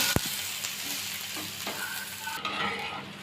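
Onions frying in ghee with a pesarattu on a hot pan, a close, steady sizzle with a brief stirring scrape at the start.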